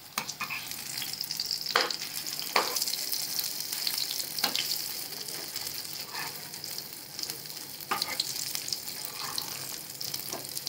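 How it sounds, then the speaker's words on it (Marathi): Leftover-rice tikkis shallow-frying in a pan on low heat, a steady close sizzle with several sharp spatula scrapes and clacks as the patties are turned, no voices. "आलटून पलटून शालो फ्राय करून घ्यायचं छान"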